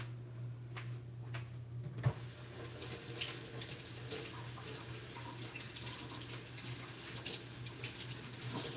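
Cool tap water runs over onions at a kitchen sink, a faint steady rushing stream with a low hum underneath and a brief clack near the start.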